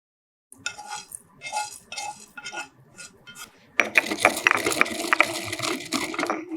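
Roasted black pepper and cumin pounded for rasam, a series of rhythmic gritty crunching strikes, followed by a louder, denser burst of grinding and pounding toward the end.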